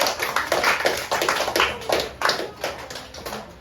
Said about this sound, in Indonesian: Tepuk tangan untuk kelompok sayur.